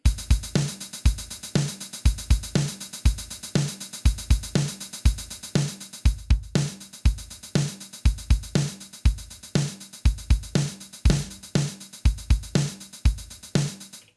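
Simple drum beat programmed on an Elektron Digitakt: steady looping pattern of punchy kicks, snares and bright hi-hats, loud and close with no talking.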